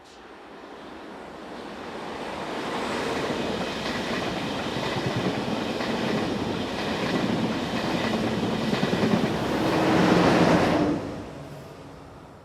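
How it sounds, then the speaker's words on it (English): Locomotive 1116111 hauls a passenger train from Braclav, its steady rumble and rail noise building as it approaches, peaking loudly near the end before easing off, with no voices. "Heading towards the camera is 1116111, powering the 1726 from Braclav."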